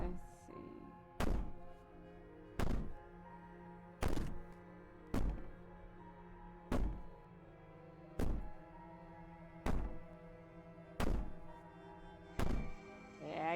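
Loud, dull bangs land one after another at an even, slow rhythm, each a single heavy thump over a low, steady hum.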